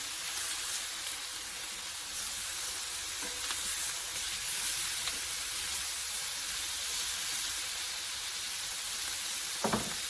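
Chicken sears in a hot pan with a steady, bright sizzle and hiss that runs throughout, broken by a few faint clicks and a brief scrape near the end as the pieces are turned.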